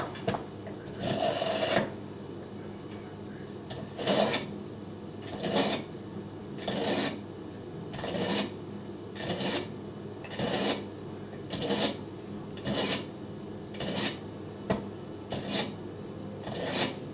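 A Cutco knife is drawn across a Cutco #80 sharpener in repeated rasping strokes, roughly one every second, each a gritty scrape with short pauses between.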